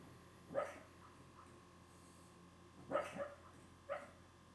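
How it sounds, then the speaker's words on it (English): A dog barks in its sleep, letting out soft, muffled yips in three short bursts spaced a second or two apart. The sounds come from somewhere in the room behind a quiet background. "He's sleep barking in the background."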